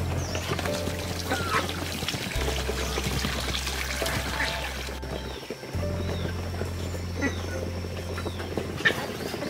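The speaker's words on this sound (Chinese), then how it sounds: "顺便将给它们的水槽里面加上一些干净的水" Clean water from a kettle pours into a ducks' water trough in a farm pen, a close, steady splashing trickle over a low hum, with faint bird calls in the background.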